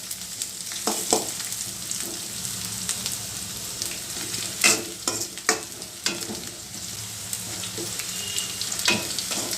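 Garlic sizzles steadily in hot oil for a garlic egg roast, stirred with repeated spatula scrapes and clacks against the pan, close and fairly loud.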